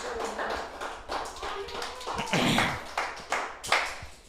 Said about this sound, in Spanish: ese aplauso es para el Señor Jesús